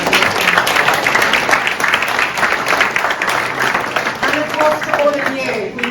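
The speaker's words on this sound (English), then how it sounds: "So a round of applause for everyone." Steady applause from a conference audience at a European digital infrastructure industry event, dense clapping filling the whole stretch at a constant level, with a faint voice creeping in near the end.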